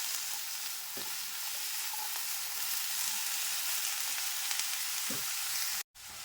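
Bottle gourd fries in oil while being stirred, a steady close sizzle with a few soft knocks of the spoon, briefly cut to silence just before the end.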